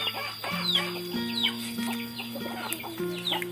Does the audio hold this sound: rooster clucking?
yes